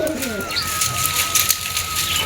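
Soft, low pigeon coos murmur under a steady high whine and light background hiss, with a faint bird call near the start.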